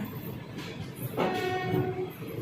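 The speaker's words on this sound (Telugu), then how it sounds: "నెంబర్ ప్లాట్ఫామ్ నెంబర్ ఫోర్ నుంచి ఏదో ట్రైన్ పాస్ అయిపోతుంది" An express train rumbles past through a station at moderate distance with a broad roar and a sustained tonal whine, with no voices.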